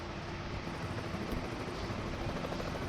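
A continuous helicopter rotor drone with a low, throbbing thump, steady and fairly loud, no voices over it.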